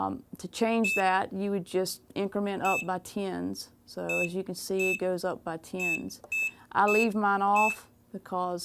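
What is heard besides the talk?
George Knight heat press button beep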